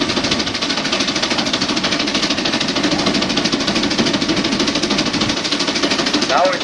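A steam traction engine at a Rollag, Minnesota show runs under heavy load on a torque test, with a steady, rapid mechanical chugging and knocking rhythm close by and a faint voice over it.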